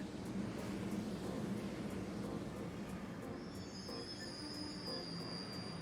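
Rolling train inside a station in the video game Trails of Cold Steel, a steady rumble of carriages with long, high metallic wheel squeals rising in the second half, loud and close with no talking.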